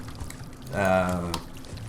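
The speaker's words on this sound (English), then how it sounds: "that water sound, which to me is going to be annoying as hell" Water flows and splashes briefly in a Minecraft lake, a short pouring burst at moderate loudness standing out from a quieter background.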